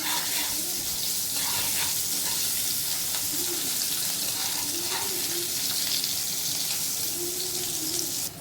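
Potatoes fry in hot oil in a pan, a dense, continuous loud sizzle with faint stirring underneath.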